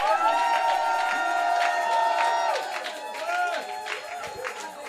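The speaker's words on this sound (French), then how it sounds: "Est-ce qu'on peut pousser des cris de joie?" A church congregation shouts and cheers with cries of joy, a loud, sustained crowd roar of overlapping high voices filling the whole moment.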